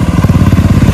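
KTM Duke 390 motorcycle engine running hard during a wheelie, a loud, close, pulsing single-cylinder burble with rapid regular firing throughout, no talking.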